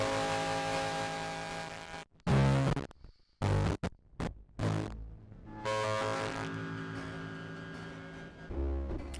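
Ripped distortion unit in Drambo with low drive and low input, giving a buzzy hum-like synth tone that cuts out in choppy bursts and gaps, sounding broken rather than heavily distorted.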